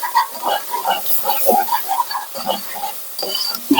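Onions, garlic and spices being stirred in a pan for red rice with potatoes, with close, bubbly crackling and scraping in uneven bursts.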